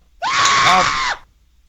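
A person imitates someone screaming: one loud, strained shriek of about a second, rising sharply, holding, then cutting off, heard alone and close.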